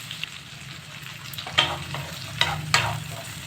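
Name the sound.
onion being lightly fried for mixed vegetable sabzi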